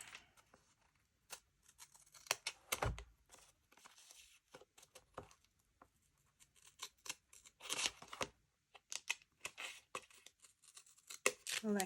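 A paper flap for a 2024 memory planner dashboard is cut off with scissors, heard as scattered close snips and crisp paper crackles separated by short pauses in a quiet room.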